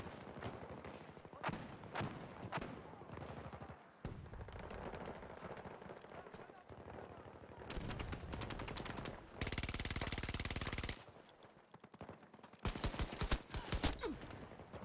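Sustained gunfire in the shooter game Battlefield 2042, dense automatic bursts and volleys running nearly continuously with sharp loud cracks, a few gaps, and occasional voices mixed in.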